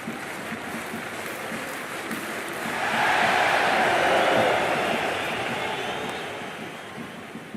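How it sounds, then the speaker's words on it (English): A stadium crowd in the Cricket 26 video game at an India versus Pakistan T20 World Cup match hums steadily, then swells into a loud roar in the middle and eases back down. No one speaks over it. "We're about to get underway and already the crowd is up and about."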